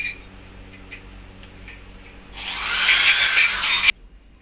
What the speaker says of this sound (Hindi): ये देखिए ड्रिल मशीन है हमारा, ये ड्रिल मशीन, ये स्टील स्क्रू से हम इसको लगा देंगे